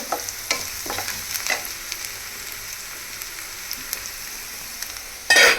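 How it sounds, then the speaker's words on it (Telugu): Ingredients frying in a pan until golden brown for oats pongal with moong dal: a steady soft sizzle with light stirring scrapes and clicks, ending in a brief louder scrape. "గోల్డెన్ బ్రౌన్ కలర్ వరకు ఫ్రై అవ్వాలి."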